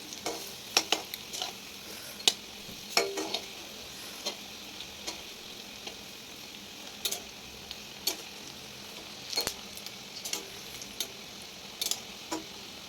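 Potato pakoras fry in hot oil with a soft, steady sizzle, broken by sharp clicks and taps of a utensil stirring and turning them in the pan, fairly quiet and close.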